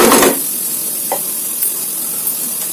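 Frying on a stove set to low heat for an egg fry, a soft continuous sizzle after a brief louder scrape at the start, with a few faint clicks and stirring touches.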